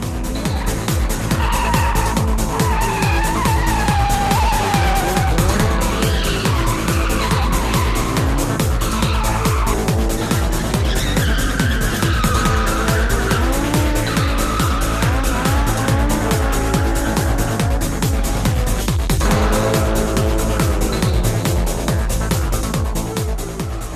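At an illegal nighttime street race with dozens of amateur cars, engines roar and tires squeal nonstop as cars drift, loud and continuous with layered screeching and revving throughout.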